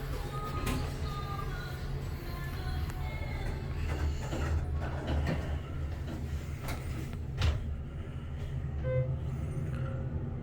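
A Schindler hydraulic elevator runs in a parking garage in Redondo Beach, giving a steady low hum with occasional clunks and rattles, while people talk faintly nearby.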